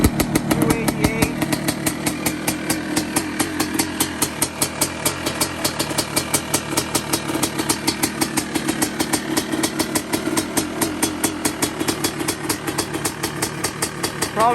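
A rebuilt 2005 Yamaha YZ250 two-stroke dirt bike engine runs close by, firing in a rapid, steady, crackling pulse throughout with slight shifts in revs.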